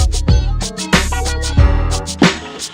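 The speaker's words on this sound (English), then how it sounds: "my doorbell sounds like this" A loud, musical doorbell chime rings out in a house, several bright tonal strikes with ringing overtones sounding about every two-thirds of a second, close and alone.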